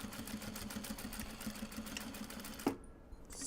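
A sewing machine stitches a seam through layered obi and kimono fabric for an upcycled bag, a steady rapid mechanical chatter that runs close and loud, then stops abruptly near the end, leaving quiet.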